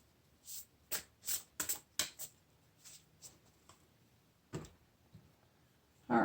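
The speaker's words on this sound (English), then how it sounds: "I'm going to shuffle these a little bit before I start with number 3." Tarot cards are shuffled by hand at close range, a run of quick crisp riffling bursts and soft slaps in an irregular rhythm, fairly quiet with no voice.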